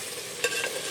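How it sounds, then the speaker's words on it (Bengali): Chicken pieces for handi chicken sizzle steadily in a pan up close, with one brief scraping stir of the spoon partway through. "বেশ সুন্দর করে নেড়ে বেশ ভালোভাবে মাংসটাকে কষিয়ে নেব"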